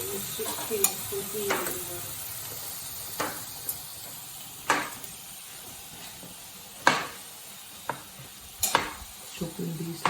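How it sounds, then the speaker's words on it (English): A knife knocks through mushrooms on a cutting board while miso soup cooks, giving sparse, irregular thuds over a soft background hiss of sizzling. "Chopping these last few mushrooms up."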